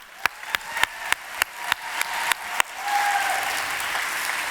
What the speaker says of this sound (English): give a round of applause for our corporate team for all their hard work